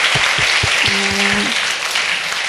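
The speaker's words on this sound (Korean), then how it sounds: "수고한 단기 선교팀을 위해서 다 같이 박수 쳐볼까요?" A church congregation applauds a short-term mission team, a wash of clapping across the room with a brief held tone from a voice or instrument in the middle.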